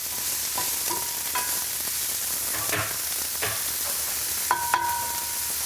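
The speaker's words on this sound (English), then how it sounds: "I'm just gonna saute it in a little bit of extra virgin olive oil, just to take the edge off." Red bell pepper and garlic sautéing in extra virgin olive oil in a kitchen pan, a steady sizzle throughout with a few brief clinks and stirring sounds, close and alone with no talking.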